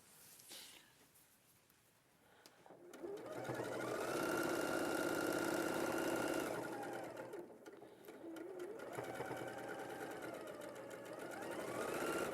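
A domestic sewing machine stitches fabric in steady whirring runs, close and continuous with a short pause midway, while people chat faintly in the background during a live sewing show.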